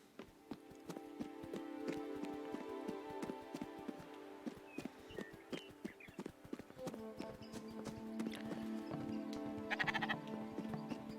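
Sheep in the video game Spiritfarer, with soft rhythmic clip-clop steps running throughout under light ambient tones, a few faint bleats and a brief chime-like flourish near the end.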